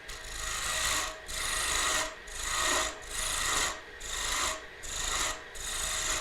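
Small gouge cutting wood on a lathe, producing a rasping, scraping hiss in six steady strokes, each about a second long with brief gaps between, close and alone.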